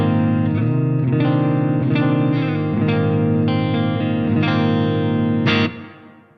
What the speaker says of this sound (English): We have a clean tone that also has some reverb on it.